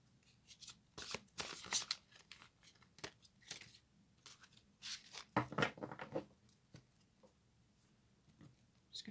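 A fairy tarot deck is shuffled by hand in several quick riffling bursts, with crisp papery flutters separated by brief pauses. It is close and moderately loud.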